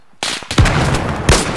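Gunfire rattles at the player in the military shooter Arma 3, a loud close burst of shots with two heavy cracks standing out through a dense, sustained roar.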